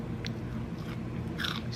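A single crisp bite into two-week-old vacuum-sealed romaine lettuce kept in a jar, giving a brief crunch close to the ear with faint chewing around it.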